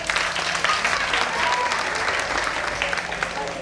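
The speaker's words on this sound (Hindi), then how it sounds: "अरे तालियां" Applause from an audience at a comedy stage event, dense and steady clapping held throughout at a loud level, with a faint murmur of voices beneath it.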